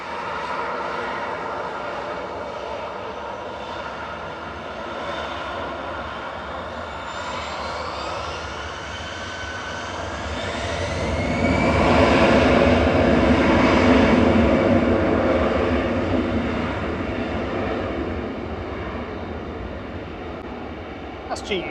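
An EasyJet jet airliner takes off from Manchester Airport for Pisa, its engine roar building from a distant rumble to a loud peak midway, then slowly fading as it climbs away.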